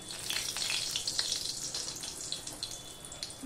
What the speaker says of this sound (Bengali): এবার একটা শুকনো লঙ্কা আমি ফোড়নে দিয়ে দিলাম।